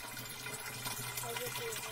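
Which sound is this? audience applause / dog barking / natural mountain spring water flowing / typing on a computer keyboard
natural mountain spring water flowing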